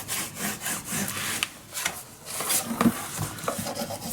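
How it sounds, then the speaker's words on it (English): Repeated rubbing and scraping strokes of a tool burnishing down the paper corners and edges of a handmade mini album, close and fairly quiet, in an uneven rhythm across the whole stretch. "Burnish it down,"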